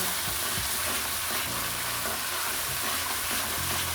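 Leaves simmering in oil for homemade hair oil sizzle and fry steadily in a pan, with stirring scrapes and clicks running beneath a constant, dense hiss, close and uninterrupted.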